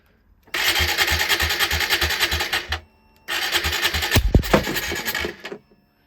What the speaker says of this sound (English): For comparison, let's do the one that I just built. Come on, Guto. Wide open throttle.